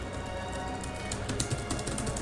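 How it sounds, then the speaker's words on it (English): Typing on a computer keyboard at a desk beside an Acer laptop, a steady run of quiet, close key clicks; no talking. "I'm typing a book."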